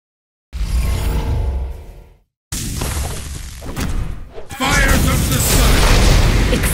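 Booming explosive hits and whooshes from a tower under attack and blowing up in the video game Genesis, loud and dense bursts with a brief gap, then a sustained roaring blast near the end.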